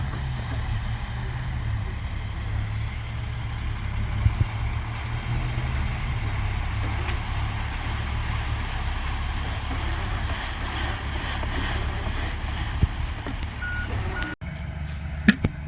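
Concrete mixer truck idling and rumbling at a pour for column bases, a steady low engine drone running throughout with intermittent faint reversing beeps and occasional knocks, while people talk nearby.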